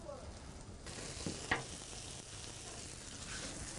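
Snails cooking in a pan for a cargolade, giving a steady, quiet sizzle with a brief brighter crackle near the middle and no talking.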